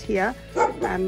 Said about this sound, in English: that's our neighbour's dog.